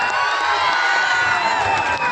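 A large crowd at a live musical event in Guntur cheers and applauds continuously, a dense, loud roar with bright shouts that holds for the whole stretch.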